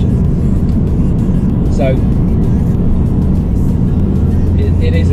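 Interior engine and road drone of an air-cooled Porsche 993 911 on the move, a steady loud low rumble that runs under a man's speech throughout.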